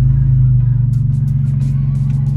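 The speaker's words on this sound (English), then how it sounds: "take the car for a drive, and see how the tune sounds" Tuned BMW E46 car engine rumbles loudly while driving, a steady deep exhaust drone with slight revving throughout.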